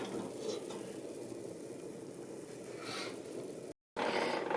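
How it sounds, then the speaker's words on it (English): Pickled beet liquid with allspice simmers in a pot on medium heat, giving a steady, soft bubbling hiss that runs evenly and cuts out briefly near the end. "bring it up to a simmer, and we're going to simmer it for 15 minutes"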